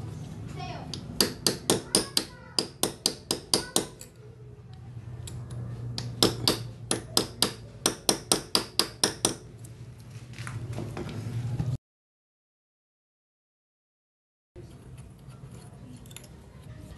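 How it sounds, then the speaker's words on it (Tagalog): A hammer taps lightly to loosen an Allen bolt on a Raider 150Fi motorcycle sprocket, sounding as sharp metallic strikes in quick bursts of several blows, close up over a low hum, followed by silence and then quieter room sound. "pukpukin nyo muna ng bahagya para lumuwag yung pagkakatornilyo"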